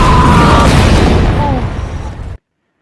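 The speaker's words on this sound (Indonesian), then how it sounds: "Seketika itu pun suasana kerajaan dipenuhi api ledakan." Gunpowder erupts in a huge fiery blast inside a royal palace in the Scorpion King film, a loud broadband roar rumbling and crackling for about two seconds before cutting off abruptly.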